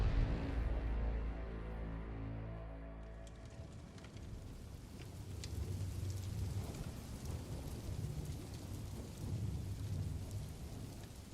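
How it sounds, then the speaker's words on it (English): Steady rain falls with deep rolling thunder at the start, then a continuous close patter of raindrops for sleep ambience, with no voices. "The evening rain fell gently upon Wayne Manor, each droplet tapping against the ancient windows in a rhythm as old as time itself"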